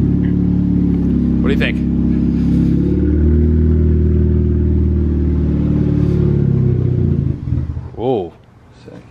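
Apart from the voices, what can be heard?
car engine starting and revving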